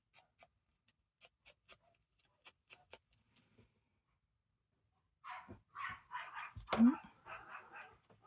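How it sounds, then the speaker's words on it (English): A neighbour's dog barks in a quick run of about six sharp barks, moderately loud and a little distant, after a stretch of near-quiet broken only by soft ticking taps. "There goes the neighbour's dog."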